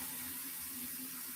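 Water runs steadily from a household tap during a refill, a constant soft hiss with a faint hum, no voices.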